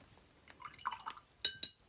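Water is poured onto metal dies in a few short, faint splashes and drips, with small clinks against the metal in an otherwise quiet space.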